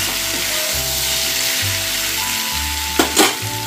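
Pumpkin softening in a covered pan is stirred, with a strong continuous sizzle and two quick scraping strokes of a utensil near the end.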